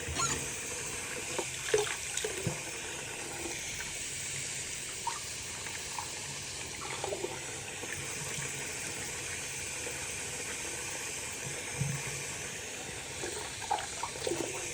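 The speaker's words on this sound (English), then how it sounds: "So I'm going to take the water and rinse him off again." Water being poured to rinse a baby during a bath, faint splashing and trickling over a quiet room, with a few soft bumps and no talk.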